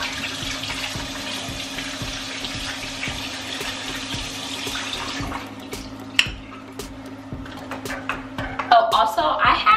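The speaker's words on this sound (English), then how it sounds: "I wash my hands first to make sure my hands are clean before I start doing my skincare." Tap water runs steadily into a sink while hands are washed, a continuous splashing hiss that breaks off midway into scattered drips and rubbing sounds before flowing again.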